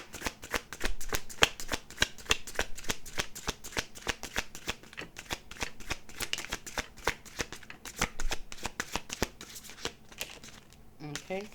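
Tarot cards being shuffled in a long run of rapid, dense riffling and slapping, steady and close throughout, ending in a few sharper taps as the deck settles.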